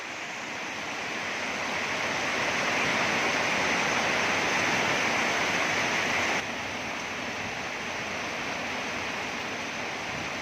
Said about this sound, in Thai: ฝนกำลังตกหนักนะครับ